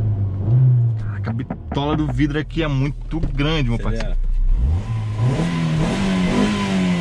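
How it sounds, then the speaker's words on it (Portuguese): Engine of an armored Fiat Strada 1.8 pickup rises and revs beneath someone talking close by, the motor note swelling more clearly once the speech pauses. "só pra vocês verem o barulhinho do motor."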